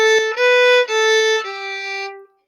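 Measure 9 of Frere Jacques played on a bowed string instrument: a quick run of clear, sustained notes in a steady rhythm, solo and close, ending with a short ringing fade.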